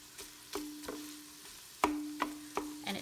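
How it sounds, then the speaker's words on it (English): Nylon tool scraping and breaking up ground pork sausage browning in a pot, a few soft scraping strokes over a steady low sizzle, close and fairly quiet with no talk. "nylon tool here that'll help cut up any sort of ground meat product, and in this case, this ground pork sausage"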